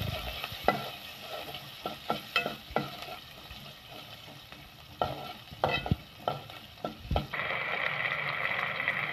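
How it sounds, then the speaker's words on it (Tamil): Small shallots sauté in a hot pan for a carrot kulambu, a steady sizzle under repeated sharp scrapes and taps of a spoon stirring, with the frying hiss swelling louder near the end. "10-15 சின்ன வெங்காயத்தை நான் வெட்டி வச்சுருக்கோம்ல, அதை போட்டு இப்போ வந்து நம்ம நல்லா வதக்கிக்கிடலாம்"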